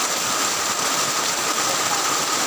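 Heavy rain pours down during a thunderstorm, a dense, steady roar of falling water that stays loud and even throughout with no voices.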